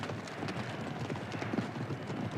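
Racehorses galloping in an anime horse race, a dense rumble of hoofbeats thundering continuously at moderate distance, with faint crowd-like noise underneath and no clear talk.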